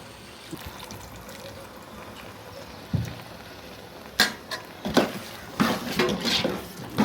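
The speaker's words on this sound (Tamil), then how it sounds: "புளித்தண்ணி ஊற்றிட்டு கொஞ்சம் தண்ணி தண்ணி விட்டு" Tamarind water is poured into a pot of peanut curry in a home kitchen. Quiet liquid trickles under a low background hiss, then louder clinks and clatter of the pot and utensils follow in quick, uneven bursts near the end.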